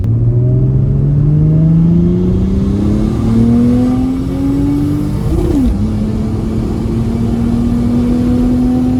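A turbocharged 3.2-liter Mercedes M104 engine pulls hard on a dyno, a loud continuous drone rising steadily in pitch, briefly dipping at a quick gear change, then climbing again.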